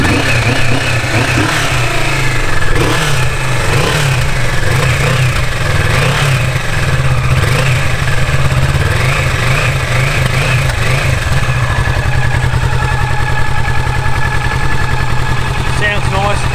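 A 2017 Kawasaki Vulcan S motorcycle engine running steadily close by, a loud continuous idle with rhythmic pulsing swells that could be light revs.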